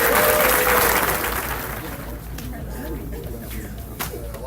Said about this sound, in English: Let's give a big hand to big applause.